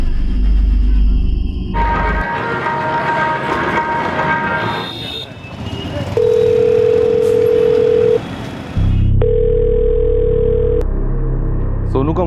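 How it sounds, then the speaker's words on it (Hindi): A mobile phone call ringing through, with steady tone bursts sounding in repeated long beeps between stretches of dramatic music and noise. "रिंग तो शाम से ही जा रही है।"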